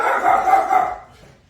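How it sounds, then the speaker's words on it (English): A tiny chihuahua lets out a quick, sharp, close bark that trails into a brief yelp, then the sound falls away almost to nothing. "He's a little tiny chihuahua acting like he's a big old dog."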